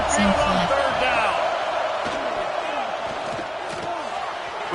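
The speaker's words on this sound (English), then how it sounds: "The Tide crowd roaring noise down on the Saban field on third down." Video game college football crowd roaring at the Alabama Crimson Tide stadium on third down, a loud sustained stadium roar with scattered shouts and thumps.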